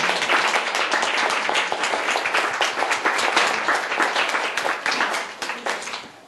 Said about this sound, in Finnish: kiitoksia ja aplodit seisten